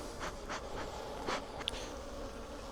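Honey bees hum at an open hive during an inspection of darker bees, a soft, steady, low-level drone with a few faint swells and no voices.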